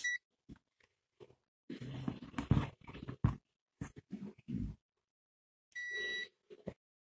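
A UNI-T UT33D+ palm-size multimeter gives its continuity-test beep: two short high-pitched tones, one at the start and a sustained beep near the end, between intermittent handling clicks and rustles.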